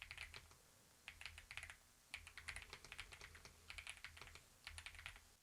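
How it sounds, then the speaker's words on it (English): Steady typing on a computer keyboard, picked up by a Maono PD200W wireless microphone: bursts of quick, close keystrokes with short pauses between runs, moderately quiet and with no talking. "It's not a super loud keyboard, but you will be able to hear it in some situations"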